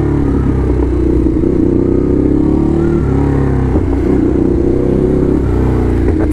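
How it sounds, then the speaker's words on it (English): A Ducati motorcycle with carbon fiber parts rides through New York City streets, its engine a loud, steady rumble with small shifts in revs that stays up close for the whole stretch. "Picked up the bike from Ducati"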